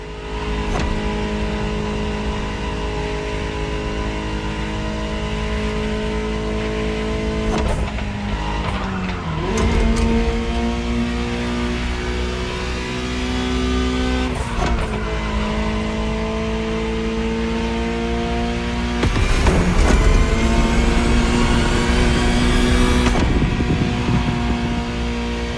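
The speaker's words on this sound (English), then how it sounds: "Just listen to the car you're driving." A Ferrari supercar engine revs loudly through rising and falling gear pulls, with abrupt shifts and a sustained roaring drone throughout.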